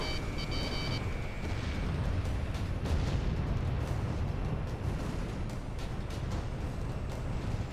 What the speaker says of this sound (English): God, that explosion sounds fantastic.